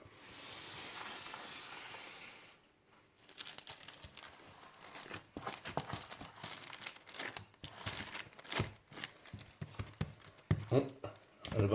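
Homemade bread dough made with T45 Gruau d'Or and T130 rye flour is worked and shaped by hand: soft, irregular slapping, squishing and crinkly handling sounds, close and fairly quiet, after a brief hissy stretch.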